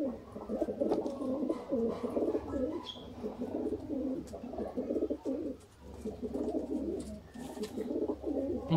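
Golden pigeons cooing nearby, a steady run of low rolling coos in repeated bursts with short pauses, fairly quiet and unaccompanied by speech.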